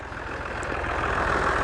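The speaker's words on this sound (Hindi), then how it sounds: "ये चेक करें अभी ट्रैक्टर यहाँ पर आ रहा है जी" A tractor approaches a road construction site where a road shoulder is being built, its heavy diesel engine rumbling low and steady and growing gradually louder as it draws near, with no talking over it.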